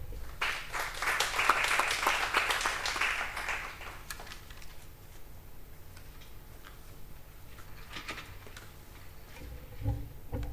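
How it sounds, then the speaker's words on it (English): Applause from colleagues at a library week seminar, a burst of clapping that swells in the first few seconds and then thins to scattered claps and quiet room noise. "Let's give you another round of applause, colleagues."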